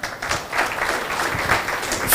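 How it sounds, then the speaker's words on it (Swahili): Applause from an audience at the Nairobi book launch of Dickson Muli's 'The Unseen Scars', a steady dense patter of many hands clapping throughout the short stretch, growing slightly louder at the end. "Makofi."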